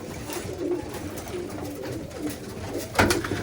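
Racing pigeons kept as one-loft-race stock coo softly and repeatedly at close range, overlapping low burbling calls with some wing flutter and rustling in the loft.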